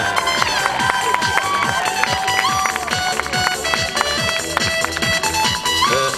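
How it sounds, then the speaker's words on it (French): A crowd claps steadily and cheers for young triathletes receiving prizes at the 2019 Dijon triathlon youth awards ceremony, with loud, dense applause over music playing throughout. "On leur fait un tonnerre d'applaudissements."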